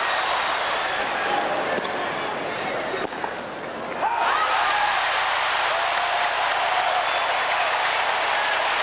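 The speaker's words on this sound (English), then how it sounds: "I'd like to applaud too now." Dense, steady crowd applause for Sampras and Agassi at the 2002 US Open tennis match, briefly dipping then swelling back loud and sustained, with a commentator's voice faintly underneath.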